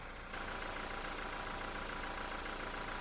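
A Toyota Revo pickup's 2.4-litre four-cylinder 16-valve diesel engine idles steadily with a rough, even clatter, heard close and alone under the open bonnet after a brief quieter moment at the start.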